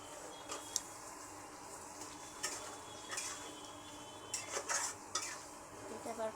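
Chicken with ground tomato paste is stirred and sautéed in a pot on raised gas heat as it is cooked down, heard as faint, continuous sizzling with intermittent spoon scrapes and light metallic taps against the pot.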